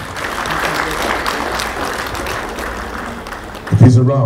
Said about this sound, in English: Ladies and gentlemen, he deserves a round of applause.